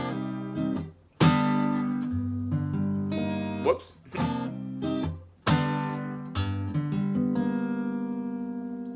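Guitar notes are plucked one after another, climbing from the low sixth bass string upward across the strings in a repeated pattern, with ringing sustain between the phrases.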